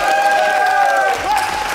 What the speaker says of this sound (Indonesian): Tetap kompak teman-teman, tepuk tangan dulu.